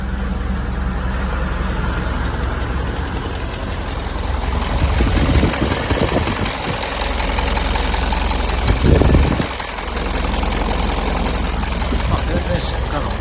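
An old high-roof, extra-long open-top van, built for styrofoam transport and showing 95,000 km, sits with its engine idling. A steady, even engine hum continues under someone talking nearby, with a couple of brief louder bursts.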